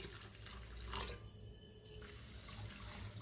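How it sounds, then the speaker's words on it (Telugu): Water pours into a container of millet and rice grains being soaked for idli batter, a steady running flow with splashy, faucet-like texture that fades partway through and returns. "వాటర్లో ఇవి మునిగేంత వరకు కూడా వాటర్ పోసేసుకోండి"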